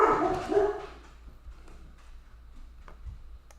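Dogs in a house bark and yip near the start, loud and close, then fade to faint scattered noises and small ticks in an otherwise quiet room.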